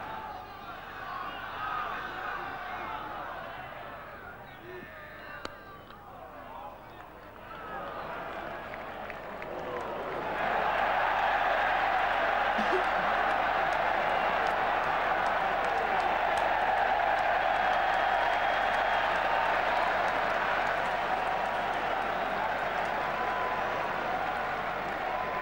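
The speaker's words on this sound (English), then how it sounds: "there was a big cheer went up from sections of the crowd who were no doubt Surrey supporters" At Lord's during the 1991 NatWest Trophy final between Hampshire and Surrey, a distant murmuring crowd swells into a broad, sustained cheer with applause partway through, while a commentator talks over it.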